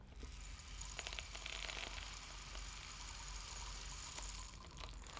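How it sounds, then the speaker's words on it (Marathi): Rain falls in a steady, faint patter with a broad hiss that stays even throughout, fairly distant and without voices. "पाऊस पडतोय"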